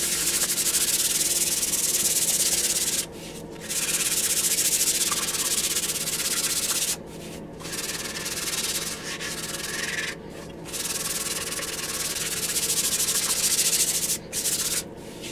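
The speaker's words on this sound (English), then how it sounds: "So yeah, I am using 220 grit on this" Continuous close hand sanding with 220 grit sandpaper on a guitar kit body, a steady gritty rasp with brief pauses between strokes; no talking.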